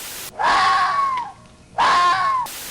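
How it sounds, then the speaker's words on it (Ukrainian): A fox gives two drawn-out, shrill, human-like screams, each lasting about a second with a short pause between, loud and near against a quiet background. "Лисичий крик звучить так схоже на людський,"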